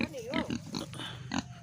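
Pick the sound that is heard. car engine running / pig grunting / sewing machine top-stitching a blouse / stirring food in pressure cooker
pig grunting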